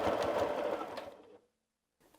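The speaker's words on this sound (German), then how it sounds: "diese Linie nähen wir an unserer Maschine wieder ab" A domestic sewing machine stitches a patchwork seam, its steady fast motor buzz running close and loud for about a second before stopping, followed by near silence.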